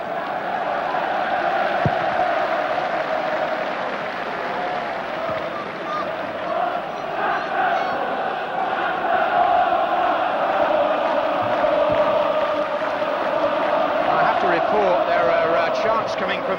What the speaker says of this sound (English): Coming from the Newcastle sections of the crowd, aimed against the board of directors and possibly the manager.